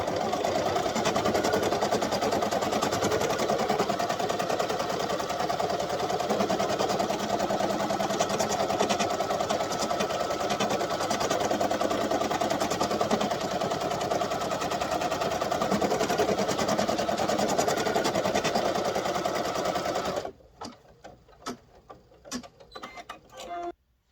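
An embroidery sewing machine stitches an applique tack-down, running as a rapid, steady mechanical whirring and tapping for about twenty seconds before stopping, followed by a few scattered clicks and handling noises.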